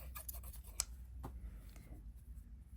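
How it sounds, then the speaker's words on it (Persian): Scissors snip through wool yarn during crochet work, giving a few quiet close clicks and a crisp cut amid faint handling rustles. "خب نخم رو قیچی میکنم"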